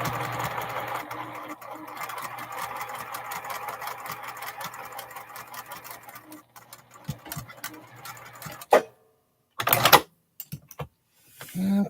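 A sewing machine stitching a quilt block runs with a steady whirring hum and fast ticking for about eight seconds, then stops and restarts in short bursts separated by silences.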